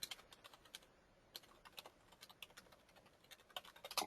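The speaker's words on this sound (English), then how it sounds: "Type quickly" Rapid, light clicks of typing on a computer keyboard in quiet surroundings, coming in uneven bursts of soft keystrokes with short pauses between them.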